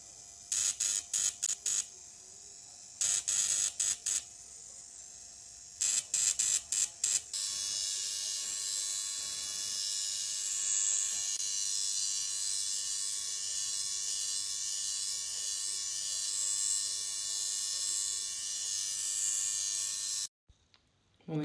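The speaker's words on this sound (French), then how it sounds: "C'est exactement la même machine qu'on utilise dans les instituts de beauté." A beauty-salon facial pore-care machine starts with several short buzzing bursts, then settles into a continuous high-pitched electric whine for over ten seconds before cutting off.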